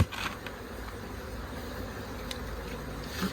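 Honeybees being removed from a nucleus box give a soft, steady buzzing hum that stays faint and continuous throughout, with no talking.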